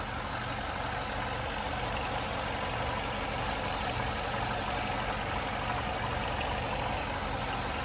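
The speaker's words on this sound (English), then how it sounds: "we will actually open up the hood and let you guys take a listen to the engine" A 2011 Chevrolet Malibu LS idles steadily with its hood open, a smooth, even engine hum with a low mechanical drone running unbroken and close by, no voices over it.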